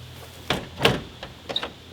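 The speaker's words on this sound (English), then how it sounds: "Doors close nice though." The door of a rusty 1967 Volkswagen bus camper shuts with a solid thunk. A couple of lighter clicks and rattles come before and after it.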